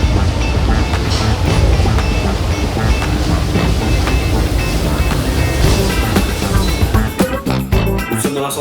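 Paris metro train running in an underground station, a loud continuous rumble and rattle of wheels on rails throughout, with sharper clatter and a shift in tone near the end as the train moves.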